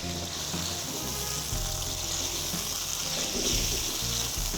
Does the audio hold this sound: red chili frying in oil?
yes